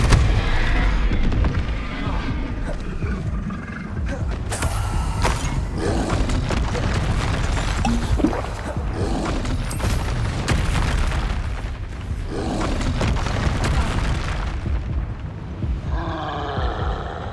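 Spell blasts of fire and force from Hogwarts Legacy burst one after another in a loud, dense barrage of booming, roaring impacts under a continuous rumble, with a voice shouting among them.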